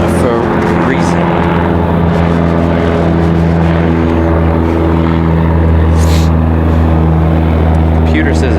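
An airplane on final approach into Raleigh-Durham International airport drones as a loud, steady, low engine roar that fills the whole stretch, heard from outdoors on a cold day.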